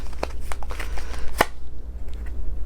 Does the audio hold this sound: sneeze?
no